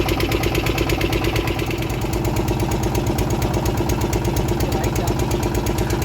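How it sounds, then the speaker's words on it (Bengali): A boat's engine runs nearby with a steady, rhythmic mechanical throb and chugging hum that holds at an even level throughout. "নৌকার ইঞ্জিনও বন্ধ করে দিয়েছে।"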